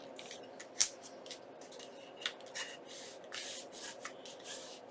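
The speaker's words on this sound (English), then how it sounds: "We'll take, this is 2 pieces, we'll take the top and we'll fold it straight down." A sheet of paper for a junk journal card is folded straight down, giving soft crinkling and sliding rustles with one sharp crisp crackle early and scattered brushing creases after, close and quiet with no talking.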